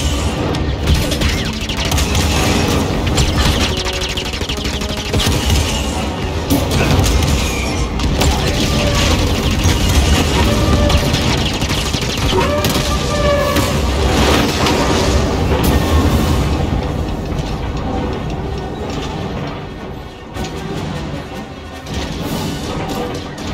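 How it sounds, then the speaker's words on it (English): Stolen AT-AT walker's cannon firing in Star Wars Jedi: Fallen Order, a dense, loud, continuous barrage of heavy blasts and crashing impacts that hardly lets up, close and overwhelming throughout. "So that fires the cannon."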